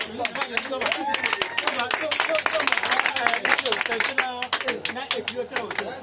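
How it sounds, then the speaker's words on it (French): An audience at a church gathering claps loudly and steadily for several seconds, a dense crowd applause with voices calling out over it. "Acclamons très fort"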